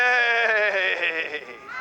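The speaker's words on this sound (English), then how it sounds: "What goes moo? A cow, that's who." A cow moos in a single loud, drawn-out tonal call that wavers slightly and fades near the end, heard up close and alone.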